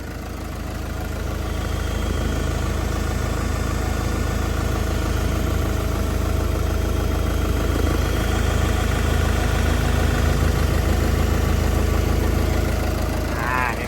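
A Caterpillar 910G wheel loader's heavy diesel engine idles steadily with a constant low rumble and vibration, close by, with a faint voice occasionally under it.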